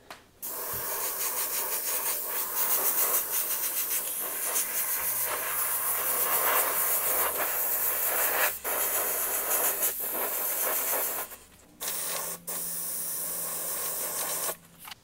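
An airbrush sprays black paint onto a panel in long, steady hissing bursts at close range, with several brief pauses between passes.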